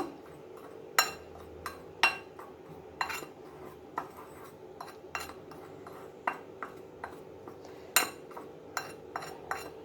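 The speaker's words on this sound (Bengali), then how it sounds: "সবগুলোকে আগে আমি ভালোভাবে মিশিয়ে নেব" A spoon knocks and scrapes against a bowl while dry spices, chili flakes, black cumin and flour are mixed, giving irregular sharp clinks spaced about a second apart over a quiet background, with no talking.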